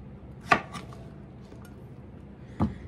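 A knife chops zucchini into good-sized chunks, making two distinct thuds on a cutting board about two seconds apart over a low, quiet room background.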